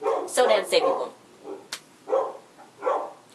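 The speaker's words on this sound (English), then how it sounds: "That's my dog Madeline. She's just going very nuts right now." A pet dog named Madeline barks excitedly in several sharp bursts close by, with yips mixed in and a person talking between the barks.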